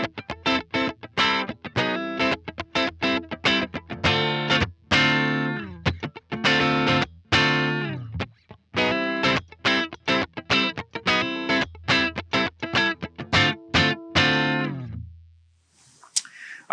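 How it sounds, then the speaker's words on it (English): An electric guitar plays through the Marshall amp model of a DSM Humboldt Simplifier, with crunchy, distorted chords and choppy staccato riffs punctuated by short silences, ending on a held chord that fades out. "let's listen to the Marshall here, and we're going to get a volume jump here."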